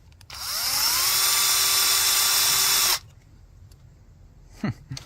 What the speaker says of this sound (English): So I'm going to drill them just a little bit bigger, so they will.